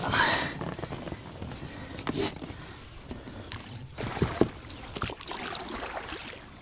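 Oars from a rowing boat on Maybalyk lake near Astana, Kazakhstan, dip and splash in water in irregular strokes, with dripping and sloshing between pulls, close by and moderately loud.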